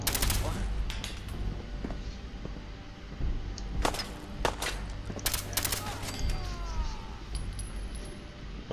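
Gunfire in Fallout 4, with repeated sharp shots spread unevenly across the clip, some in quick bursts, over a steady low in-game hum and ambient noise.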